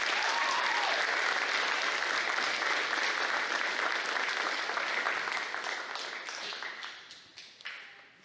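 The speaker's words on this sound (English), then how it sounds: "Please give a round of applause for Zayana Martin Baxter." Warm, dense applause from the audience at a school invention convention awards, steady at first, then tapering off into scattered individual claps near the end.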